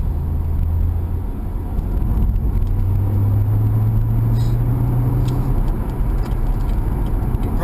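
A C7 Corvette drives on a wet road in light drizzle, with a steady engine drone and constant tire hiss and rumble, loud and close from start to finish.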